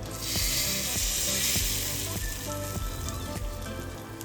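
Hot oil tempered with mustard seeds and dried red chillies is poured into raw mango chutney, setting off a loud hissing sizzle with faint crackles and pops that gradually eases.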